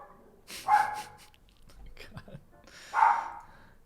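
Dogs bark at a delivery in two separate bursts, a short gap between them, with soft whispered talk in the quiet stretches.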